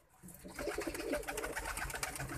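A pigeon coos softly nearby with a low, rolling, repeated call that goes on continuously, with no talk over it.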